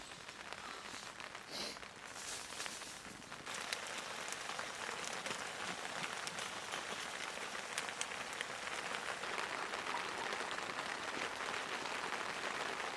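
Rain patters steadily on a camping tent, a dense close hiss of drops with scattered louder taps, continuing evenly throughout with no voices.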